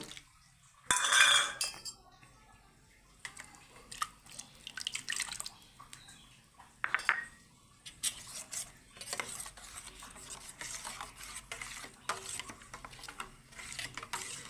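Mustard paste being stirred with water in a large bowl, soft wet swishing with clinks of a spoon against the bowl in short bursts, close and fairly quiet.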